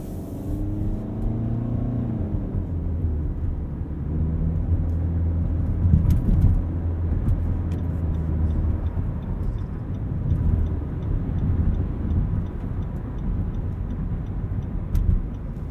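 A 2020 Nissan Rogue SL AWD with a CVT accelerates from inside the cabin, giving a steady, droning engine hum that holds a fairly constant pitch with little rise or fall, loud and continuous throughout with no talking.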